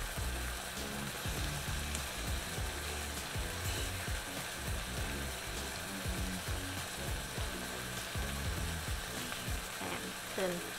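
Clams with Thai basil stir-frying in chili paste in a home Thai kitchen: a steady, close sizzle and crackle of frying with repeated scrapes and clacks of a spatula against the pan, continuous throughout.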